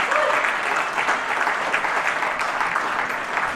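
Loud, sustained applause from a large audience at a councilwoman's state of the district address in South Brooklyn, dense clapping filling the room without a break.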